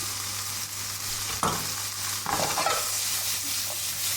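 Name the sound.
mushrooms with garlic frying and stirred in pan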